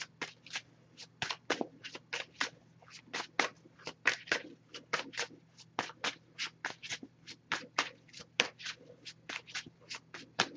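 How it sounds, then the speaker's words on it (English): A deck of oracle cards is shuffled by hand, heard as a long, quiet series of crisp riffling and slapping bursts in an uneven rhythm, close up and with no voice over it. "I'm going to give this some shuffles"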